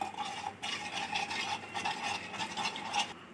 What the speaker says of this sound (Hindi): अदरक लहसुन का पेस्ट डाल दिया है, और अब तमाम जो ड्राई मसाले हैं वो डालेंगे। बहुत अच्छे से इसको मिक्स करना है।